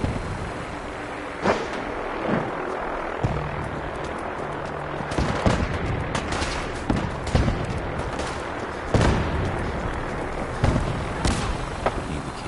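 Scattered gunshots crack through a video game shootout, sharp irregular reports and bursts spread across a dense, noisy backdrop of battle ambience and engine-like rumble, loud and near throughout.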